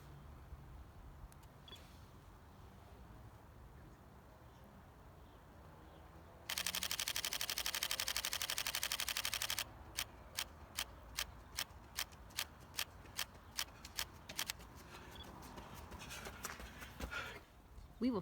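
A Pentax K-3 Mark III fires in continuous shooting during an autofocus test. A dense, rapid burst of shutter clicks is followed by a long run of separate, evenly spaced clicks against faint room noise.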